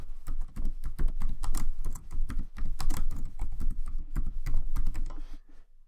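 Rapid, close clicking of keys on a computer keyboard as a name is typed into a form, a dense continuous patter that stops abruptly at the end.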